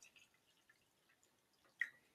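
Water added to a coffee cup, a few soft small drips and trickles followed by one sharper splash near the end, faint and close, no talking.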